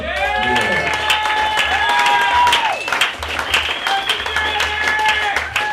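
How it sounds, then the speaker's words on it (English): A comedy club crowd at a stand-up show breaks into loud, sustained applause, with cheering, whoops and whistles rising over the clapping throughout. "round of applause to Stand Up for 2 years"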